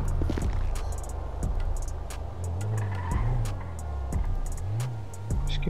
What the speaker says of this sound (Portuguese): Carro ali.